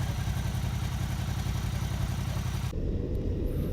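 A Suzuki V-Strom 650XT motorcycle with its stock exhaust runs steadily up close with a low, throbbing exhaust rumble that continues throughout, then softens slightly toward the end.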